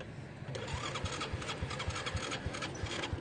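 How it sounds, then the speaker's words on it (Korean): A vehicle engine on a ride in Myanmar sputters unevenly, firing in rough, irregular pulses beneath a steady hum as it begins to stall, close and moderately loud. "시동 꺼졌는데?"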